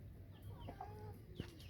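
Chickens cluck in short, scattered calls from large hens and chicks in a small farm enclosure with rabbits, fairly close over a low background hum, with no talking.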